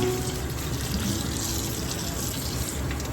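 Tap water runs steadily and evenly as chicken gizzards are rinsed in a kitchen, with a continuous splashing hiss throughout.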